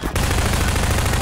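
Dense, continuous gunfire from the video game Half-Life 2, a loud sustained barrage of rapid shots that kicks in after a brief lull and holds steady throughout.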